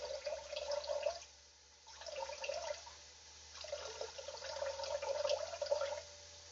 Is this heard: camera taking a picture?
no